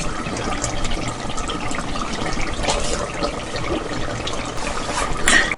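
Hot water pours in a continuous splashing stream into lamb curry in a pressure cooker, close and steady for several seconds, ending in a brief louder splash.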